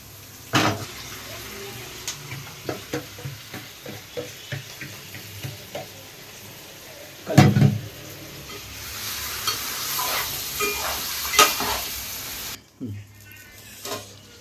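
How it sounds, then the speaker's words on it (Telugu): Chicken pieces frying in a pan for a dhaba-style gravy, with crackling sizzle and repeated stirring clatter, spoon scrapes and bumps near the mic, a brief pause of quiet near the end. "ఒకసారి మొత్తం ఫ్రై అయింది, నీసు వాసన పోయేదాకా ఇలా ఫ్రై చేసుకున్నాను"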